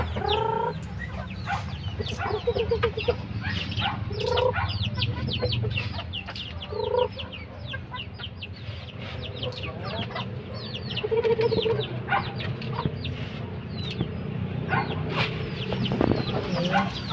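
Chickens cluck and chatter continuously at close range, with scattered bird calls in the background.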